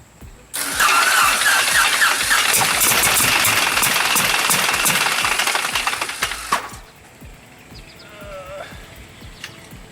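An old Jacobs radial aircraft engine coughs into life abruptly, then roars loudly and steadily for about six seconds before the noise drops away, leaving quieter sounds and a brief bleat-like squeal.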